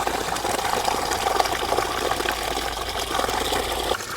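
Water gushes steadily from a pipe into a backyard fish pond, a continuous close rushing flow that cuts off abruptly at the end.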